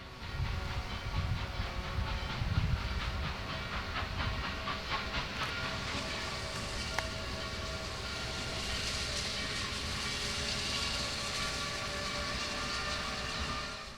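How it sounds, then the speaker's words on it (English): Norfolk and Western steam locomotive number 475 pulling its train eastbound down a hill at Strasburg, a steady hiss and rolling rumble with rhythmic chuffing that stays at a moderate distance for the whole stretch. "Soon after 611's train stopped, number 475's train came down the hill eastbound."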